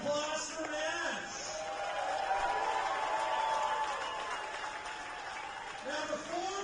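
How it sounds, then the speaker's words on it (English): Crowd applause at a summer collegiate baseball game between the Energy City Cactus Rats and Okotoks Dawgs, greeting Nash Crowell before the final draw of the night; steady, moderately loud clapping from a ballpark crowd lasting several seconds with a faint voice over it. "Let's have a round of applause for Nash."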